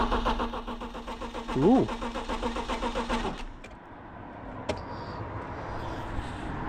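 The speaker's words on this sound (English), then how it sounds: "Let's give it a crank, shall we?" A BMW E36 engine cranks on its starter for about three seconds in a steady, rapid rhythmic churn that does not catch, then the cranking stops and a brief voice exclaims over quieter background noise.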